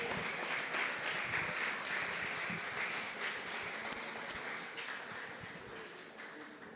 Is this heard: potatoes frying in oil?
no